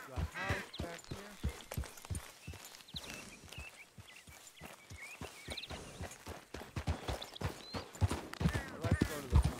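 A horse's hooves clip-clopping in Red Dead Redemption II, a run of close, crisp hoof strikes at a walking pace with some irregular gaps, mixed with faint game voices and ambient sounds.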